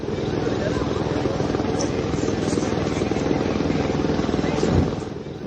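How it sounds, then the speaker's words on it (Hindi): Army helicopters flying over Dharali, Uttarakhand, during relief work after a cloudburst, heard as a loud, steady rotor and engine drone with a faint chopping pulse that holds throughout. "धराली के ऊपर पिछले कुछ दिनों से उड़ान भर रहे ये हेलीकॉप्टर उम्मीद की किरण से लगते हैं।"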